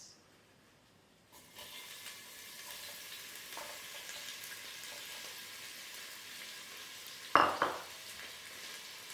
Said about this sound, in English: So as it's starting to shimmer, which it is now, we're going to add in our onions.